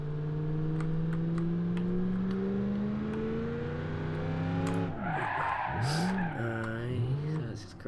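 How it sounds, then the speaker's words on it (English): Car driving in BeamNG.drive, with a steady engine drone that climbs in pitch, then tires skid and squeal as revs swoop up and down near the end, loud and close, with a voice talking over it. "Now I'll get this car and crash into it."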